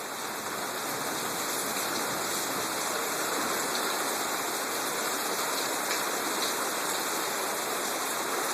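Steady rain pours down during a thunderstorm at Brookhaven, heard from a deck near golf greens, a dense, even hiss of falling water that stays loud and constant throughout with no voices.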